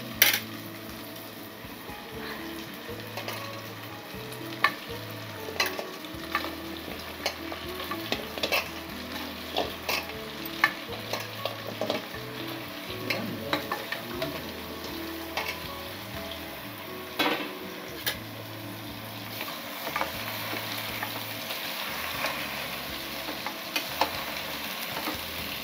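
Mutton leg pieces frying with ginger and tomatoes in a pan, loud steady sizzling with repeated scraping and clinking of a spoon stirring against the metal, close and continuous with no talk.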